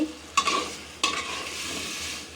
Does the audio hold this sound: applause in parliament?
no